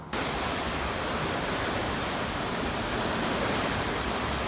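A river running fast and high after bad weather, a dense, loud, steady rushing roar of water that starts abruptly and continues unbroken.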